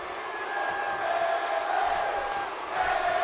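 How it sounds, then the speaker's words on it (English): Arena crowd cheering in the WWE 2K18 wrestling video game during a women's match, a steady, broad roar of cheers and whoops holding at moderate loudness throughout with no break. "the crowd starting to get behind Bayley here in this women's matchup"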